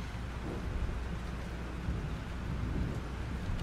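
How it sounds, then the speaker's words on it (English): A thunderstorm with rain in the video game Life is Strange: steady heavy rainfall with low rumbling thunder, continuous and enveloping, no talk. "This storm is real."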